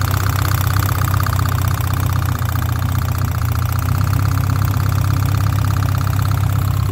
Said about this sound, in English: That noise you're hearing, that's that injector right there.